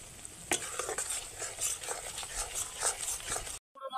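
Ground coriander, spices and chopped green chili are stirred in a hot frying pan, sizzling steadily with repeated scraping strokes of a spatula, close and fairly quiet, ending abruptly.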